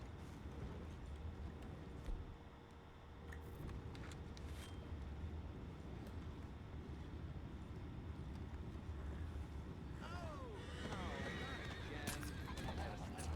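Horses in the video game Red Dead Redemption 2 whinny and neigh over a steady rumbling background, with clopping hooves and a voice talking now and then; a louder burst of neighing comes near the end.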